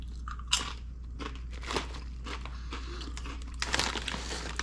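Mesquite-flavored kettle chips crunched up close, a few sharp loud bites followed by denser chewing crunches over a low steady hum, with no talk.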